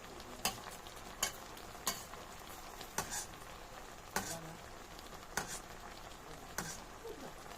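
Galunggong fish simmering in boiling coconut milk with lubi-lubi leaves in a pot, a steady soft bubbling sizzle broken by regular sharp clicks of a utensil stirring or tapping, close and moderately quiet with no talk.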